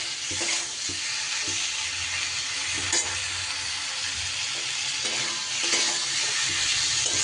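An orange (kamala lebu) mixture is stirred in a frying pan, sending up a dense close sizzle with repeated scraping and knocking strokes of the spatula, no voices over it.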